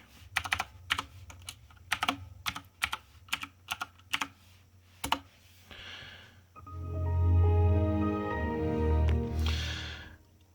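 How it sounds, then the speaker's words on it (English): A password typed on a computer keyboard during Windows setup, a run of crisp separate key clicks in uneven rhythm, followed by a louder rumbling noise that takes over near the end. "make sure that you type that in with a capital A"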